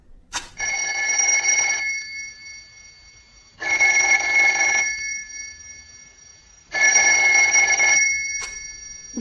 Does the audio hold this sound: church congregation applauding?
no